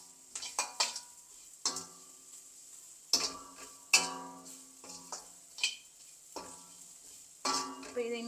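Bitter gourd being stirred and fried in a pan for a Tamil-style stir-fry, with repeated scraping and clattering strokes of a spatula against the pan over a low sizzle, heard close with no talk.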